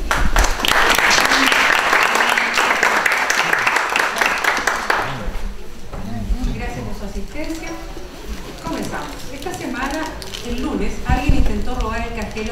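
An audience gives warm, full applause to welcome a speaker at a talk. The dense clapping lasts about five seconds, then gives way to a voice speaking.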